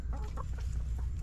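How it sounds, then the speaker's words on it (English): Chickens cluck softly and repeatedly nearby, a few short overlapping clucks against a low background hum. "Good morning, chickens."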